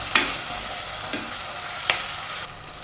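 Onions and green chillies fry in a pan for a Kerala tuna curry, making a steady sizzle with three sharp clacks of a spoon against the pan before the sound drops off.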